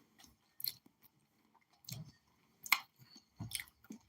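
Soft close chewing of food, a few irregular wet crunchy bites spaced across several seconds, faint and quiet with no talk.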